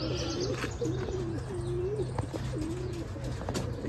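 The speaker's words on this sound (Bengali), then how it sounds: "সকালে সিটিং কবুতর" Soft, repeated throaty cooing from Giribaz pigeons, several rolling calls in a row, fairly close, with a steady low background hum.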